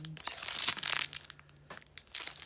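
Small plastic packaging of earrings being crinkled and pulled open by hand, close crackling bursts in short clusters with pauses, alongside a faint voice.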